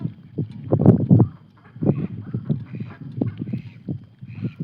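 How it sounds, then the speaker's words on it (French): Ducks quack loudly in a rapid series of harsh, uneven calls, close by and alone outdoors during a thunderstorm. "Les canards, ils savent pas ce que c'est de se taire là."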